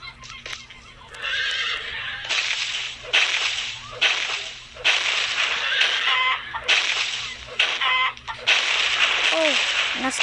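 Chickens in a survival video game squawk and flap as they are struck, with repeated bursts of hits and clucks in uneven rhythm, close and fairly loud, with a player talking at times.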